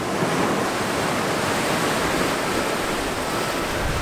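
Constant roar of ocean waves breaking on a rocky beach in Tulum, Mexico, a dense, steady wash of surf close by with no pauses, loud and unbroken for several seconds.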